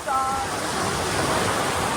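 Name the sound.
sea waves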